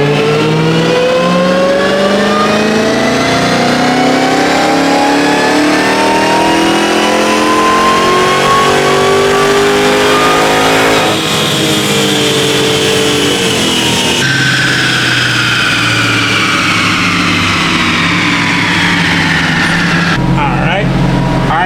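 A 2023 Dodge Challenger Hellcat RedEye Jailbreak revs hard on a dyno, its supercharged engine climbing in pitch through long pulls with abrupt gear shifts, loud and close throughout, then dropping off at the end.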